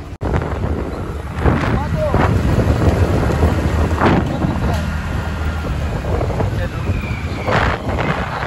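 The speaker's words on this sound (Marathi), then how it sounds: "ब्रिज खाली पावसाने जोर धरलाय, जोर" Heavy rain roars steadily under a bridge with gusty wind buffeting the microphone, broken by a few sharp knocks and faint distant rumbles.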